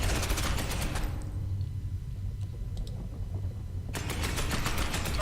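Rapid automatic gunfire in the video game Space Hulk Ascension, a dense loud rattling burst that drops out for a few seconds of low rumble, then resumes just as hard.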